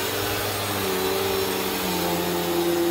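A Bissell CleanView Pet upright vacuum cleaner runs continuously at a steady, loud whine and roar throughout, with no one speaking.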